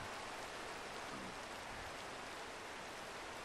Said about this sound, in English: it's raining. This is the first time I think I've seen rain.